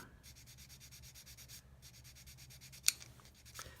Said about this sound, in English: I can push the sanding stick up against my thumbnail and rub away at that without rubbing the raised detail off.